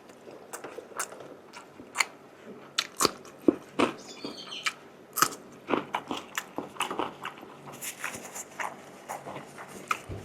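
Crispy pork belly eaten with chili, heard as loud close crunchy bites and chewing, a stream of irregular sharp crackles and wet mouth sounds over about ten seconds with no talk.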